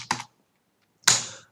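Two short bursts of computer keyboard typing, a quick cluster of keystrokes followed a second later by a slightly longer run, close and clear with silence between.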